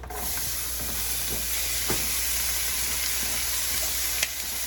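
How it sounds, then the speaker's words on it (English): Bacon, onion and jalapeño fry together in one pan, a steady close sizzle and hiss with a few scattered sharp pops and spits of fat, with no talk. "I decided that I'm gonna go ahead and cook together my bacon, onion, and jalapeno in the same pan together"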